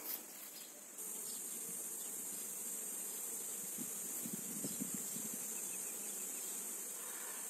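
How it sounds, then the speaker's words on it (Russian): Bees buzz steadily around blackberry bushes in a summer garden, a continuous low drone holding at an even level for several seconds with no talking. "Пчелки тоже хорошо на ней сидят."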